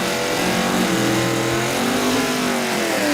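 A pickup truck and a Chevrolet Impala launch side by side in a drag race at Orlando Speedworld, their engines roaring loud and close as they accelerate hard, steady and unbroken.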